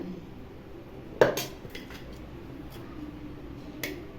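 A spoon clinks against a dish while spice powder for a mutton gravy is added, one sharp metallic tap followed by a few lighter clicks and a final tap, close and alone over faint room noise.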